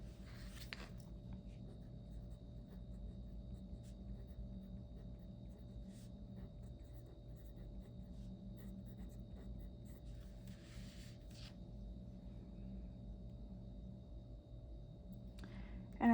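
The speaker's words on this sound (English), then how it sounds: "So I'm gonna just write that equation down." Pen strokes of an equation being written by hand, faint scratchy bursts scattered over a steady low room hum, quiet and close, with no talking.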